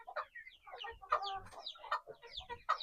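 Backyard chickens cluck and squawk close by in a quick, busy run of calls, with no talking over them.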